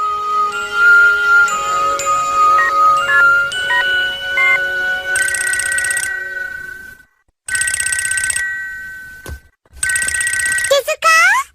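A melodic phone ringtone plays, followed by repeated electronic telephone rings in separate bursts with brief pauses between them.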